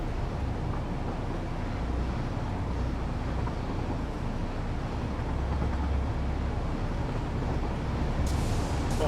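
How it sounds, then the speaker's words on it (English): A train rolls past in the factory-building game Satisfactory, a steady broadband rumble that holds at an even level throughout with no distinct onset or fade. "That was a train."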